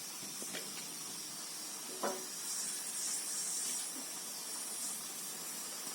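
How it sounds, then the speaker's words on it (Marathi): An onion roasting in a pan for a spicy Vidarbha-style jackfruit curry gives a steady low sizzle and hiss, with a couple of brief scrapes or pops standing out, close and alone. "आता आपण कांदा भाजायला टाकूया"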